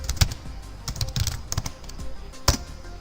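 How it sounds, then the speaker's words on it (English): Keys clack on a computer keyboard in short irregular bursts, with a couple of louder taps, nearby and fairly quiet. "start typing Device Manager"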